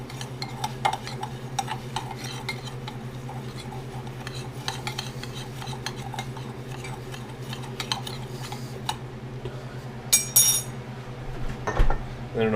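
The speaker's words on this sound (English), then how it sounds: "So now we'll give that a good mix." Fish being mixed with garlic powder and lemon pepper in a bowl, with rapid clinking and scraping of a utensil against the bowl over a steady low hum, plus a few louder knocks near the end.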